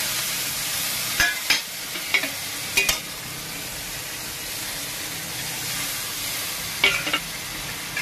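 Spice paste for Bengali pangas fish curry stir-fried in a pan with a little water, a steady low hiss and sizzle with a few sharp scrapes and taps of the spatula.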